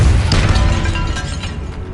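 A Repulsor spell blast in Hogwarts Legacy, a dense booming burst with a rumbling low-end wash that stays loud and sustained across the whole moment, no voices on top.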